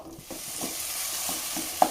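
Ground spices soft-sizzle and fry in a pan with occasional stirring scrapes, steady and close, no voices.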